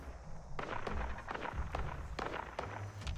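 Gun turret fire in Fallout 76 comes as a series of muffled, booming shots at irregular intervals, each a dull thump with a short crackling tail, heard at some distance.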